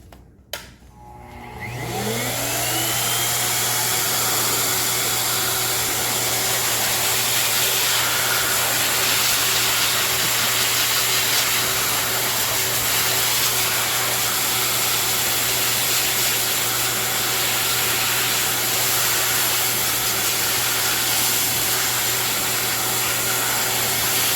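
A hair dryer starts up and runs at a steady, loud whir while Bernese puppies are groomed for their first bath session, holding one unbroken motor hum with no voices.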